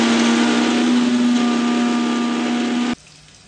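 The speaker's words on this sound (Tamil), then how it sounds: "இது எல்லாத்தையும் இப்போ நம்ம அரைச்சிக்க போகிறோம்." A mixer grinder grinds chilli powder, spices, onions and tomatoes into paste with a loud, steady motor whine that runs without a break and then cuts off abruptly near the end, leaving quiet.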